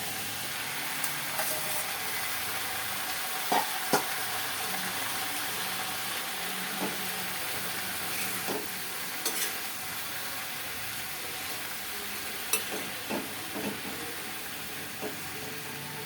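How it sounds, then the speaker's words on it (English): Chopped tomato and onion fry for a curry with a soft, steady sizzle and moist hiss, punctuated by occasional spoon scrapes and taps against the pan, heard close with no voices. "tomato onion బాగా fry అయ్యి కొద్దిగా గ్రేవీలా అవ్వాలి"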